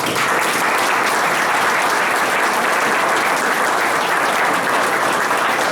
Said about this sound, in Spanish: a quien le pido un aplauso